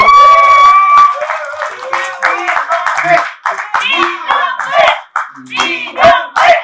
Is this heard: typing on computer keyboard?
no